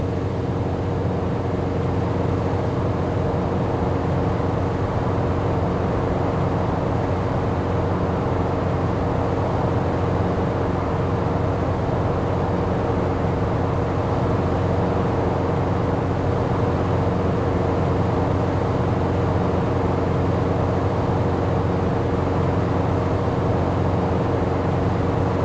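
The piston engine of an RV-6A light plane in Microsoft Flight runs at full throttle, giving a steady, loud droning hum with an even tone that does not change throughout.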